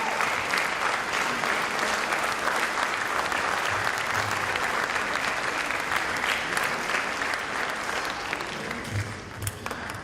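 Sustained, dense applause from a large audience at a community event, steady and close for the whole stretch, tapering slightly near the end.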